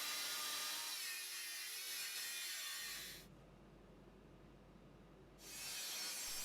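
A straight cut through a metal angle piece for a DIY fan: a steady, close, rasping cutting noise that drops to a duller grinding midway, then returns to the brighter rasp.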